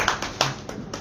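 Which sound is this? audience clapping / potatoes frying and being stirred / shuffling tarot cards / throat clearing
audience clapping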